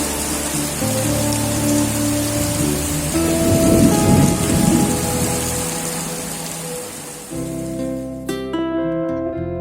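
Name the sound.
heavy rain with thunder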